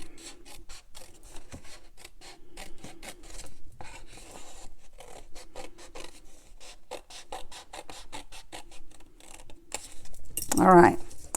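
Scissors cutting paper for a gift card holder, a steady run of quick, close snips and rasping slices, with a louder rustle of handled paper near the end.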